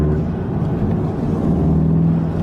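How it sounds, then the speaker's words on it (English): A Volkswagen Golf 7 R Variant engine rumbles loudly from inside the cabin, with a rising whine as the turbo spools up under acceleration. "Was that the turbo or the clutch? The turbo."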